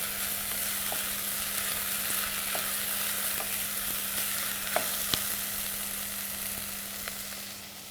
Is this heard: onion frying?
yes